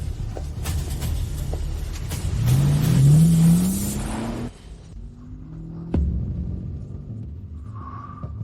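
A car pulls away and accelerates, the engine revving upward in a loud rising throb, then dropping to a lower rumble as it drives on, with a brief thump partway through.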